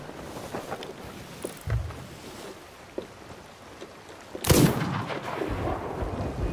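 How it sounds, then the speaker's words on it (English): Ship cannons boom in a Sea of Thieves naval fight, a few sharp blasts spread across the moment, one especially loud near the end, over a low wind-and-water bed. "You guys are actually still shooting at us."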